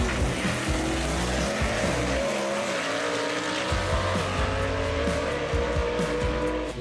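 Gasser-style drag racing cars, including a '55 Chevy, roar off the line at a Southeast Gassers event, with loud, sustained engine noise and tire squeal carrying across the whole stretch.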